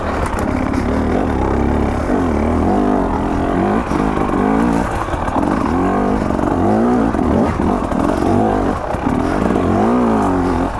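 A 2024 KTM 300 XC-W two-stroke dirt bike churns along in second gear over a rooty trail, its engine loud, close and continuous with rough, uneven throttle pulses and no talking.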